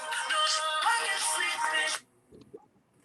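An incoming call sets off a phone ringtone, a bright electronic melody playing loudly for about two seconds before cutting off abruptly, followed by faint handling sounds.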